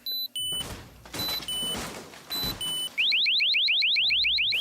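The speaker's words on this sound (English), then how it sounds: "But the alarm went off and I think it scared him off." An RV's electronic alarm blares: steady tones cut on and off, then a rapid repeating rising whoop, loud and close.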